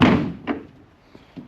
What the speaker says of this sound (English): and then drop the trailer door